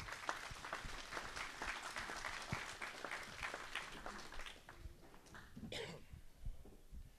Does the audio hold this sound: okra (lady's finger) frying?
no